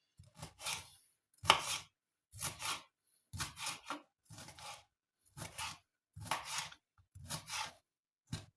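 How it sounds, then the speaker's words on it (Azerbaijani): A knife chops vegetables on a cutting board for a crab salad, giving about ten crisp, separate strokes in an uneven rhythm, close and fairly quiet. "Və digərlərini doğrayırıq."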